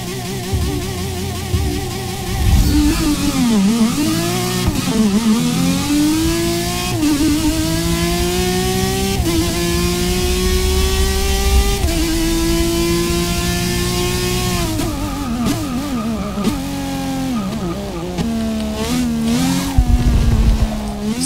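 A video game race car engine, an Aston Martin DBR9 or 1966 Ford GT at Le Mans, revs continuously, its pitch climbing and dropping with each gear shift, loud and close with no talking.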